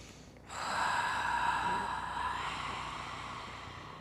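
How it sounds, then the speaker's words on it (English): Ujjayi yogic throat breathing, a single long, close, breathy rush of air constricted in the throat that rises quickly and then slowly fades, with no talking. "We can make the sound of the Ujjayi breath."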